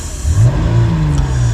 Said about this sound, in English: I'm gonna have to rev it when I start, just because of the idle air control valve